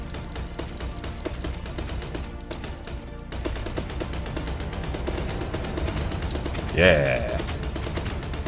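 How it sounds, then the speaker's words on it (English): Rapid weapon fire rattles in quick repeated bursts in the vehicle-building game Procelio, a steady mechanical chatter at moderate loudness, with a brief spoken word and a bright electronic chime near the end. "this is saying I should do burst firing, because that's the most accurate form of firing"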